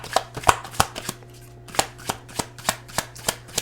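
A tarot deck being shuffled up close: a run of crisp, rhythmic card riffles and taps, pausing briefly midway before resuming at a steady pace.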